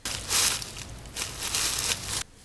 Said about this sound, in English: The sound of footsteps crunching leaves.